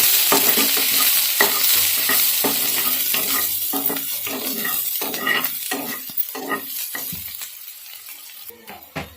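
Thinly sliced large onions frying in a pan, a constant sizzle broken by repeated rhythmic scrapes of a spatula stirring them, loud and close, thinning toward the end.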